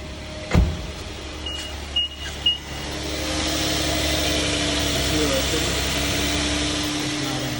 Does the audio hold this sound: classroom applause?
no